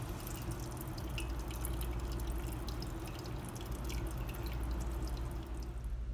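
Water drips steadily from grated pumpkin hung in a tightly tied cloth to drain, with faint, soft drops falling close by in a quiet kitchen.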